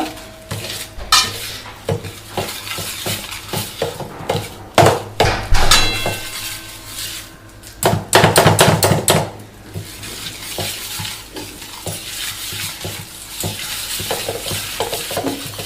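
Batter for a lime tart being mixed in a bowl, with irregular clinks and scrapes of a utensil against the bowl, some sharp knocks and a busier stretch of rapid stirring, close by.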